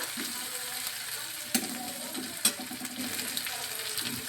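Ground onion fries in hot oil in a home kitchen while a fish dish is being made, giving a steady soft sizzle with a few sharp clicks and scrapes from stirring.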